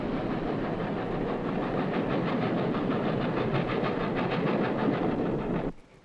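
Silverton narrow-gauge train of the Rio Grande in Colorado, a steady rolling rumble with rhythmic clatter that holds for several seconds, then cuts off abruptly near the end.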